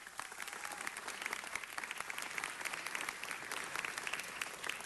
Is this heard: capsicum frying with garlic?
no